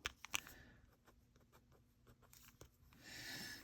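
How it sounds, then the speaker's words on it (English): A pencil flicks in quick strokes across paper while colouring an owl illustration, a series of soft scratchy rubbing ticks in an irregular rhythm, quiet and close, ending in a longer faint rasping stroke. "You can kind of see I'm flicking it just like I would a pencil."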